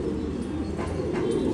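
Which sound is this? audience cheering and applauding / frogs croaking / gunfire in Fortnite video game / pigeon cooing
pigeon cooing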